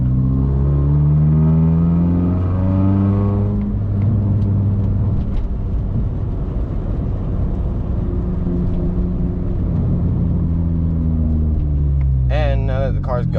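A manual-shift car engine rises in pitch under acceleration, drops as the clutch goes in for a gear change, then climbs again, loud and close from inside the cabin, with a person talking over it.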